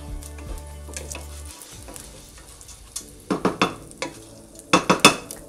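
Rice frying in a pan for Belizean rice and beans, first a low steady sizzle, then a quieter stretch followed by a series of sharp, close scraping and clinking spoon strokes against the pan.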